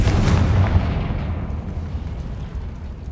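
A Confringo spell explodes in the video game Hogwarts Legacy: a loud, close burst with a rumbling tail that fades steadily over about three seconds.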